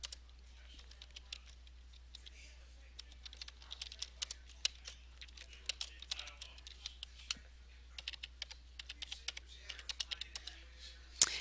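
Typing on a computer keyboard while entering data into Word 2007, a quiet run of soft, irregular key clicks that goes on steadily throughout with a few sharper taps.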